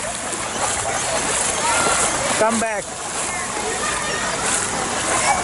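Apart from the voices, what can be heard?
child splashing through water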